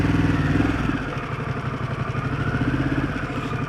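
Harley-Davidson Pan America motorcycle engine running steadily at low revs, a continuous close rumble with a fine rapid pulsing clatter throughout, no one talking.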